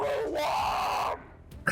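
Darth Vader's anguished scream from the Obi-Wan Kenobi episode 6 finale, a loud, sustained strained yell lasting about a second before cutting off abruptly, followed by a brief burst of noise.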